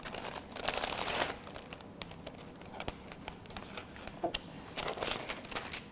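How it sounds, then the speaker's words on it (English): Plastic wrapping on cut flowers crinkles and crackles up close while flower-cutting snips snip at it in short bursts, quiet and irregular. "So to cut the plastic off, you can use your flower cutting snips"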